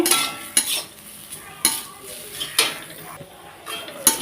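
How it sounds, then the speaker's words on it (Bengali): Shola kochu (taro) frying gently over a low gas flame, with a soft sizzle under repeated sharp spatula scrapes and clinks against the pan every second or so, close by and without speech. "গ্যাসটা কিন্তু আমি কমিয়ে কমিয়ে ভাজছি"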